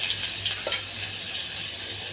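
Onions frying in a hot tempering of cumin and mustard seeds with chana dal, a steady close sizzle with light stirring, no talk.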